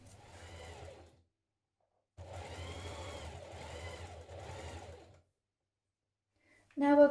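A sewing machine stitches teddy bear fabric pieces in three quick runs, a rapid mechanical whirring that stops and restarts, separated by short silences.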